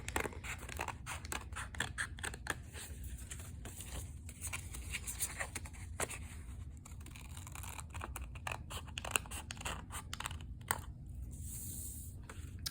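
Scissors snip through folded paper to cut out half of a shield shape, a steady run of close, crisp cuts and paper rustles with no talking.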